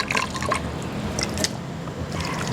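Water is poured into a diluted hydrogen peroxide mix for plant roots, a short close trickle and splash with a few drips, heard alone without talk.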